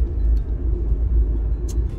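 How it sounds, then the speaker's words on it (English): A car drives along a road, its steady low engine and tire rumble continuous and close, with a couple of faint brief higher-pitched noises toward the end. "So currently I'm driving"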